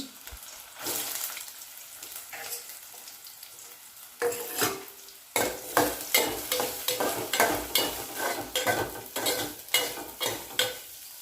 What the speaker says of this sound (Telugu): ఇప్పుడు ఈ మిల్ మేకరీలు దోరగా వేయించుకోవాలి